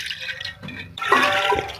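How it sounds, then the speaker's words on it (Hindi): Tap water runs into a cooking pot being filled for boiling soaked rice for kheer, a steady close splashing rush that briefly dips before rising louder and fuller. "अब मैंने एक देगी ली है, इसमें हम पानी डालेंगे"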